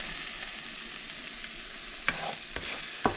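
Bacon frying in a pan while making cepelinai, a steady soft sizzle running throughout with a few sharper spits and crackles near the end, close and fairly quiet with no voices.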